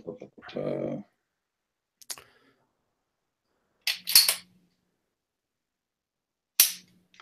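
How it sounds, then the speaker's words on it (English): Manual safety on a 1911 pistol being flicked on and off, a few sharp, isolated metallic clicks spaced over several seconds, close and crisp, with a brief bit of other handling noise at the start. "It's got the manual safety on the 1911. I just keep switching it on and off, on and off, on and off."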